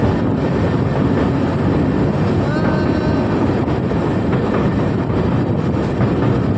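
A steady, loud rumbling roar of a train crossing the old Pamban bridge to Rameswaram, continuous heavy noise with a faint squeal near the middle.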